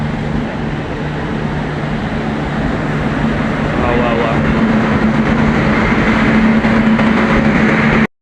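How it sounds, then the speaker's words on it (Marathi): A train rumbles steadily close by as it arrives at a station, a continuous loud rolling drone with a low hum, ending abruptly. "ट्रेन आले बघा ट्रेन आले"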